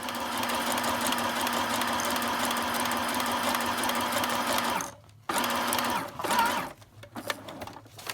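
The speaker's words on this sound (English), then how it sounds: "now this is sewn all the way around all four corners here" A sewing machine runs steadily, stitching around the edges of a paper junk-journal tag folder, loud and continuous for about five seconds before stopping and restarting in short bursts.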